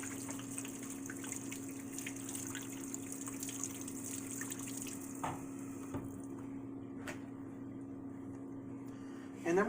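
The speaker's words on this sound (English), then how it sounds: "I'm going to wash my hands first." Hands are washed in hot water with soap under a running kitchen tap, a steady close rush of water flowing for several seconds before it cuts off near the end.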